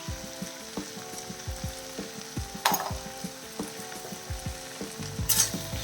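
Onions sautéing in a pan for a broad beans stir-fry, a soft steady sizzle broken by repeated scraping stir strokes and a couple of brighter clatters of the spoon against the pan.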